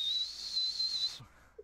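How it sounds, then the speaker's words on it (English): A guard's whistle blown as a sound effect: one shrill, steady blast lasting about a second, loud and close, cut off sharply, followed by faint brief knocks. "grab his whistle."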